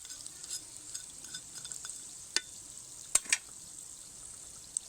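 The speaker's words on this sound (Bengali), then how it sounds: "এগুলো দুই থেকে তিন মিনিটের জন্য ভাজা হওয়ার সময় দেব" Pakoras sizzle steadily in hot oil, with soft crackles and a few sharp pops or utensil taps breaking through the constant fry.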